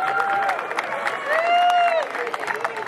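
A youth league cheering section at a player pledge event whoops and cheers, a lively crowd of high excited voices with scattered clapping rising and falling over about three seconds.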